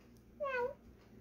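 A house cat gives a single short, clear meow lasting about a quarter second, close by and fairly quiet against a hushed indoor room.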